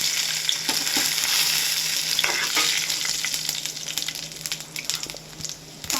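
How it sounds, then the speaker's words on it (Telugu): Tempering spices fry in hot oil for peanut chutney, a loud, steady crackling sizzle close by that gradually settles and thins toward the end, with no voices. "ఇప్పుడైతే దీంట్లో తాలింపు సరుకులు వేసుకోవాలి."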